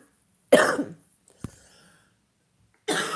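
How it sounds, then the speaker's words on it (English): A single sharp cough, followed by a short quieter cough-like burst, then another harsh cough at the end, all close and otherwise in silence. "I've got a really tickly cough."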